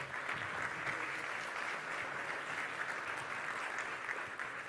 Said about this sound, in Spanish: vamos a ir dándole aplauso a medida que van subiendo, a Leonardo Barbero